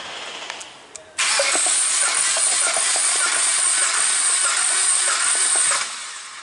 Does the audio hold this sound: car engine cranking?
yes